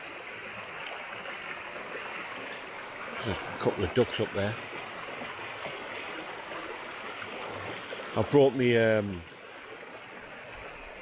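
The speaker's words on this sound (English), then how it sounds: "Just standing here makes you feel like you're standing in the middle of the river." The River Derwent rushes past in a broad, constant hiss of flowing water, close and steady throughout, while someone talks over it in short bursts.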